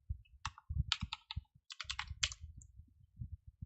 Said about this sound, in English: I typed the wrong password